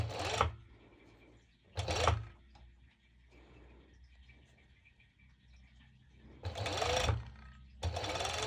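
A sewing machine stitches the crotch seam of mesh shorts in loud, short bursts, the motor whirring for a second or so, pausing, then running again, with faint handling noises in between.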